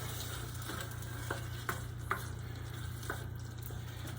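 Food with oregano is stirred in a cooking pot, giving soft scraping strokes and light clinks over a steady low background hum.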